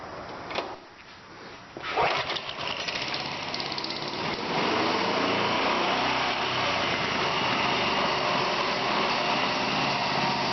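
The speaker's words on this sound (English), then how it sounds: "My motor doesn't always like to start on idle, so I'll just start it on" A homemade bandsaw mill's motor, already hot, is started on the fast setting: a few clunks and a sputtering catch, then a loud, steady engine drone that runs on unbroken to the end.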